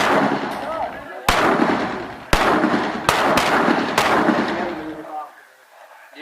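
Sharp gunshots from an annual shooting range session, four or five loud cracks spaced about a second apart over steady background noise and voices, fading to near quiet at the end.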